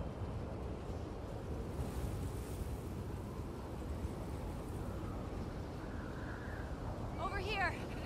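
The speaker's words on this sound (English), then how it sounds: "It's pretty windy." Strong wind roars steadily through a stormy outdoor scene in The Last of Us Part 2, a broad constant rush that fills the whole stretch, with a brief higher whistle near the end.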